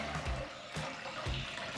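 Water poured into a bowl for a homemade copper-utensil cleaning mix, a splashing, gurgling flow with repeated surges roughly every half second, close and fairly loud, no talk.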